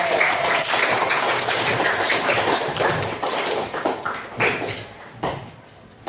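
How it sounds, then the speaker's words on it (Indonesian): A classroom of students claps for a classmate who volunteered to come forward, a brisk burst of many hands that stays lively for several seconds, then thins to scattered claps and fades out. "Tepuk tangan dong untuk kamu."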